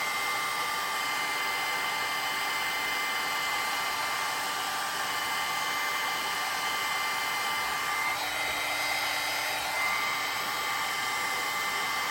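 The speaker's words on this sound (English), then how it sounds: "I'm going to use my heat gun quick. Just give it a quick blast of heat." A heat gun blows a steady, loud broadband rush of hot air over wet ink on a snowflake craft, running continuously throughout with a brief shift in tone near the end, and no talking.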